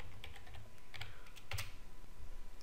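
Fingers typing an email address and password on a computer keyboard, a quick run of close, crisp key taps with short pauses and no talking.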